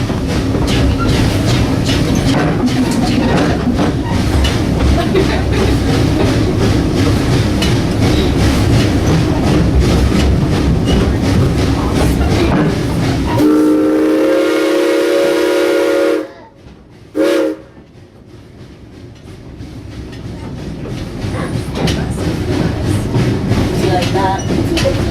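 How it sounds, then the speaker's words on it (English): A passenger train rumbles along on the rails with a steady rolling roar, then a loud steam-style whistle sounds in several pulses before the noise drops away and builds again. "There's the choo-choo."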